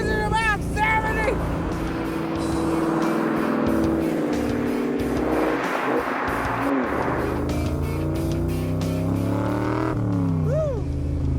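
A replica Shelby 427 Cobra roadster with a Ford Coyote engine cruises at speed, its engine note rising and falling in pitch as it revs through gears over wind rush, with people whooping and talking over it at times.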